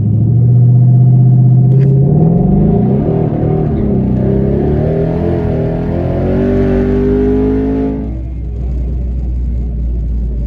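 A Hellion twin turbo Mustang with traction control off and the transmission in sport mode accelerates hard from a launch, its loud engine rising in pitch through the gears before easing off near the end.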